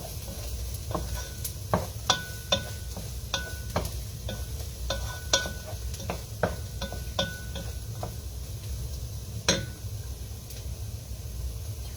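Onions for sarapatel curry fry in a pot with a low, even sizzle. Frequent sharp clicks and scrapes of a spoon stirring against the metal come at an irregular pace, close by, with no voices.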